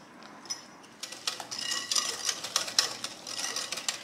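Eggs, sugar and sour cream are mixed in a bowl, with a utensil clinking and scraping against it in quick, irregular taps that carry on steadily after a quiet start.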